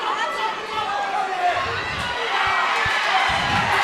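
Crowd at an XFC 49 women's MMA fight, a loud roaring wash of cheering and shouting with thumps underneath, while a commentator talks over it.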